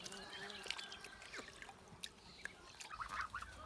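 Small goslings and ducklings peep and chirp faintly outdoors near splashing water, soft scattered calls over a quiet background.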